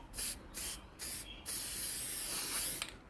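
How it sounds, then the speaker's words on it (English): Craft matte spray hisses from an aerosol can in several short bursts, then one longer continuous spray, close and fairly quiet. "Now this is like a craft matte spray."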